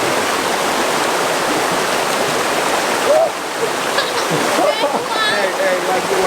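River water rushing along a mountain riverbed below, a steady broad hiss of flowing water, close and constant, with a few faint voices and exclamations partway through.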